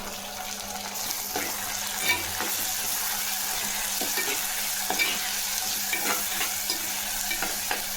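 Cut tomatoes fry with sautéed onions in a pan for tiffin sambar, with a continuous close sizzle, regular spoon scrapes and stirring knocks, and a faint watery hiss underneath.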